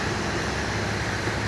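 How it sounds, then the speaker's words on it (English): A loud, steady whirring fan drone fills a garage, constant and broadband with no variation and no talking. "Sorry about the fan noise. I know it's kind of loud in here today."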